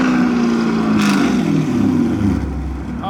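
Parked in neutral, a 2021 Chevrolet Camaro SS with an aftermarket exhaust is blipped to around 3,000 RPM, a loud, nearby throaty growl rising and falling once before easing into a low rumble.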